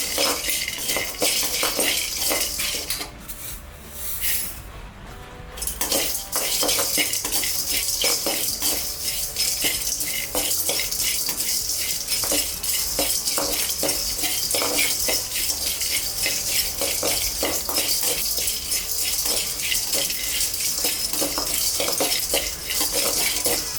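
Whole spices including black pepper and cardamom are dry roasted for biryani masala powder, stirred in a pan with a utensil. Rapid, rhythmic scraping and clinking continue close-up, with a brief pause near the start.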